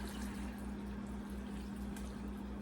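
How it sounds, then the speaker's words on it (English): Plain water poured into a pot of homemade dog food, a steady, even liquid rush under a low constant hum, continuous and fairly quiet throughout. "we're gonna put in just some plain water in here"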